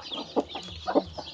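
A brooding hen sitting on a clutch of eggs gives several low, soft clucks in an uneven rhythm, close by and fairly quiet, with no speech.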